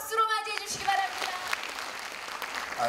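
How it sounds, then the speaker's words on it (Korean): Applause rises to welcome a speaker at a Korean book concert, starting right after a loud voice and continuing as a moderate, steady patter of audience clapping. "박수로 맞이해 주시기 바랍니다."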